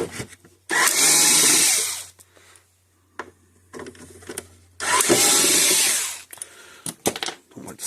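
Power driver whirring in two bursts of about a second each to back out Phillips screws from the solar panel of a Gallagher electric fence charger, close, with small clicks and handling noises between.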